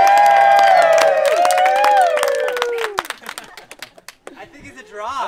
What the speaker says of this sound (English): And a massive round of applause for Felix.